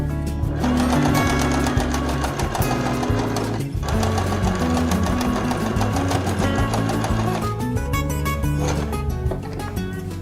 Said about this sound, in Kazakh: Машинкада зигзаг қойып қойдық программасын.